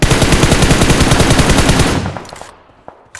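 Automatic gunfire in the BGMI mobile battle royale game rattles as a loud, rapid, close burst of shots, then fades into a few scattered, quieter shots near the end.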